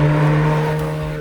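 A Corvette C8 Z06 fitted with a titanium exhaust revs in one loud, steady burst. Its deep tone holds strong and close the whole time, with no voices over it.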